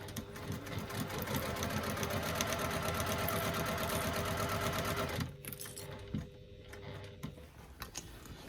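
Domestic sewing machine stitching a quilting-weight cotton bag, a steady close rapid whirring run for about five seconds, then stopping into quieter handling noise.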